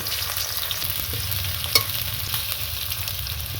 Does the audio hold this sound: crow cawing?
no